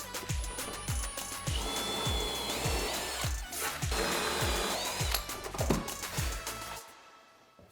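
A power drill fitted with a 1/4 inch bit bores bolt holes while a cable railing post is installed, whining steadily up close with repeated low thumps and small pitch shifts before cutting off near the end.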